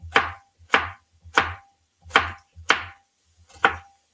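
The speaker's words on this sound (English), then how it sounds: "And chopping skills could be better." Knife chopping garden vegetables for homemade hot sauce on a cutting board, six sharp separate chops spaced about half a second apart, close and clear with nothing else heard.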